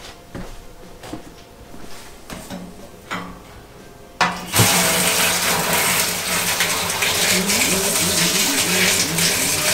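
Water gushing into a Grainfather G40 brewing system, starting abruptly after a few soft knocks and handling clicks, then a loud, steady filling rush that continues to the end.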